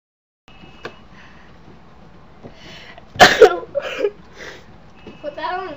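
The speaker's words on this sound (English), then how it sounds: "I didn't mean to sneeze" A single sudden, loud sneeze bursts out near the middle, set against quiet room tone, with scattered voices and small vocal sounds following.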